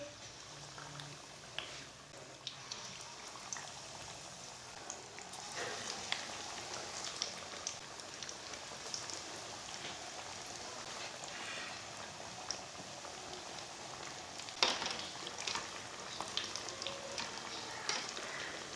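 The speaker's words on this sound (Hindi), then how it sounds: "अब इसे फ्राई कर लेंगे।" Potato doughnuts frying in hot oil, a steady soft crackle and sizzle running throughout with a few sharper pops, moderately close and fairly quiet.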